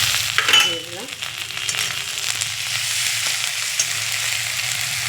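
Onion fries in oil with chili powder, turmeric and ginger paste, a close steady sizzle broken by a brief clatter of stirring near the start.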